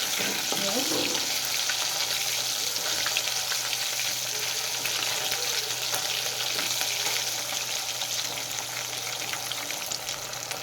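Pieces of katla fish fry in oil with a steady, dense sizzle and crackle that holds at an even level throughout, close up and with no voices over it.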